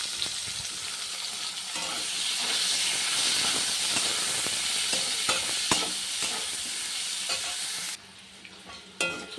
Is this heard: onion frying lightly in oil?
yes